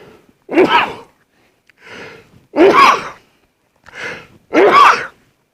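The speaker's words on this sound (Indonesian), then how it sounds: "bersin. Karena bangun malam-malam." A man sneezes several times in a row, loud and close, with sharp bursts alternating with softer intakes of breath in a quiet room.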